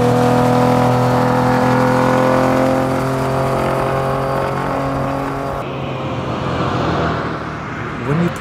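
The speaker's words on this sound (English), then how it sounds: "you hear those carburetors, those 12 cylinders screaming" A Ferrari 250 with a carbureted V12 engine revs and screams, a loud sustained multi-harmonic tone that holds steady, then shifts pitch and fades somewhat as the engine note changes toward the end.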